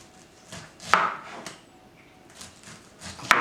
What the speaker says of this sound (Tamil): இப்போது அதை அரிய போகிறோம். ரவுண்டாக அரிய போகிறோம். மெலிசாக ரவுண்டாக அரியணும்.